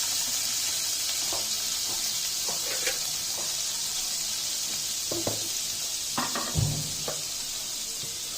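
Olive oil and butter sizzle in a pan with a tomato paste, producing a constant soft hiss broken by a few scattered clinks and a louder knock near the end.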